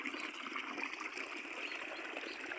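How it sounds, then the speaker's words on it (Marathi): Water gushes steadily from a detached hose pipe while a pump motor runs, a continuous close splashing flow with no talk over it. "इकडं मोटर चालू आहे, पाईप निघला इथं."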